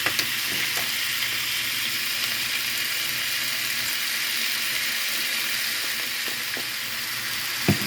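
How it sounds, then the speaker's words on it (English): Hamburger meat frying in a pan with smoky mesquite seasoning: a steady, loud sizzle continues throughout, with a few faint clicks of stirring and no talking. "And then we're just going to cook this until the hamburger's done"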